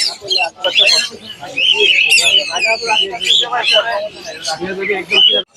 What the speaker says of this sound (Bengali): ভাই কি পাখি এটা সানকনুর ভাই সানকনুর